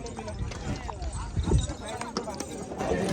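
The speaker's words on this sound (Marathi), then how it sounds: "मित्रांनो चला, आमचं हॉर्स रायडिंग झालेलं आहे" Horse hooves clip-clopping at a steady walking pace during a horse ride at Mahabaleshwar, moderately close, with people talking over the hoofbeats.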